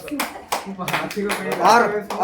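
Rhythmic hand clapping keeps time with a group singing a Hindi devotional song about longing for a beloved, at an outing with friends in the Rock Garden; sharp claps land at a steady beat beneath the voices.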